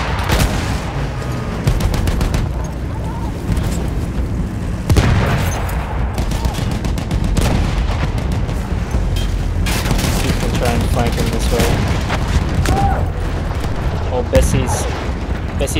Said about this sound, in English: So much explosion!